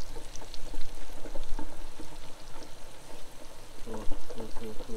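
Hot oil sizzles and splashes as venison and goose are basted during deep-frying, a crackling, uneven spatter close up with speech mixed in.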